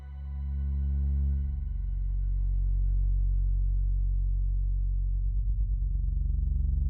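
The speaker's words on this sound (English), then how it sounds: "let's see what a little bit of multi-band distortion might sound like." A sustained, heavy synth pad from VPS Avenger 2 drones in the low register, gritty with multi-band distortion, developing a pulsing wobble toward the end.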